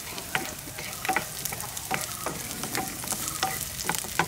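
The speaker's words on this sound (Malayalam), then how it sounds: "ചെറിയ ഉള്ളി നന്നായിട്ട് വാട്ടിയെടുക്കാം" Small shallots and garlic sauté in a pan as the base for a coconut milk fish gravy: a soft, fairly quiet sizzle with a series of light spatula scrapes and clicks, no voices.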